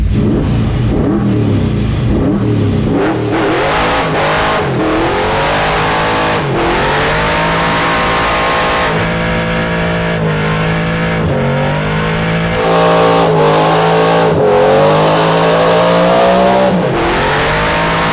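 A Chevrolet El Camino fitted with an LS/Hemi hybrid engine revs repeatedly, its loud, rough exhaust note surging up and dropping back in a series of throttle blips, close by with no talking.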